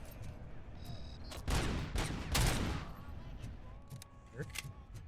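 Bursts of gunfire in the video game Robocop: Rogue City, several loud volleys of shots amid game sound effects, with a voice talking over the action.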